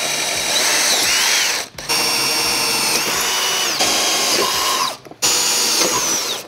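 A power drill bores pilot holes for a trailer hitch under a 2017 Chevrolet Corvette, a loud steady whine running in long bursts with two brief pauses between them.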